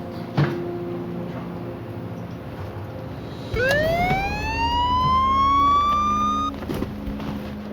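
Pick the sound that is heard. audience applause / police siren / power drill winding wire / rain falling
police siren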